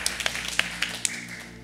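A church congregation claps hands in a scattered, uneven patter of sharp claps, fairly quiet and without voices.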